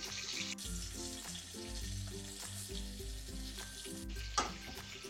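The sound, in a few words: onions frying in hot oil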